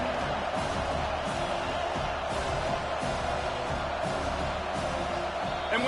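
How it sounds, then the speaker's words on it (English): Crowd noise fills a packed stadium in an NCAA college football video game with Texas A&M playing, a dense, constant roar with faint cheers rising and falling, heard alone at moderate loudness. "And with this place rocking, the crowd forces a false start."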